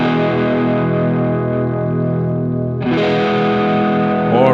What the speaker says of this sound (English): Or you can use, for example, the boost from the TS-808.